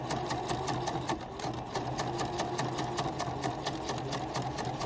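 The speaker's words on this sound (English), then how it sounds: "and keep on sewing." A sewing machine runs steadily and close, stitching gathered fabric secured with tape, its rapid needle rhythm continuous throughout with no talking.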